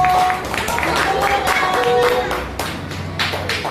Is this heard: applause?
yes